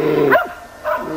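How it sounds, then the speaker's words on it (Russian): Laika hunting dog barking in a forest during a bear and boar trial, two short barks about half a second apart, fairly close and clear with no talk. "Другая собачка откуда-то из леса подлаивает."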